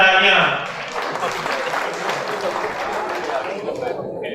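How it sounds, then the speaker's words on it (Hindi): Applause from the audience at an Urdu poetry gathering (mushaira), a brief voice at the start giving way to a steady wash of clapping that fades near the end. "जोरदार तालियां।"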